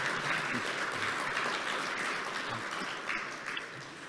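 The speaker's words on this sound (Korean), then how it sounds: "그러한 의미에서 장관님께 박수 한번 드리면 어떻겠습니까?" Audience applause for a government minister at a Korean small-business management innovation convention, steady dense clapping from a large crowd sustained throughout with no speech over it.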